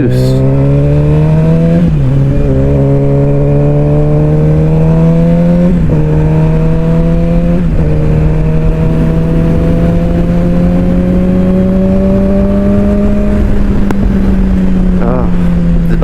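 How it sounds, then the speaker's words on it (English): A motorcycle engine heard while riding in traffic, a loud, close, steady drone that rises in pitch through several gear changes, with wind buffeting throughout. "Bike sounds so good."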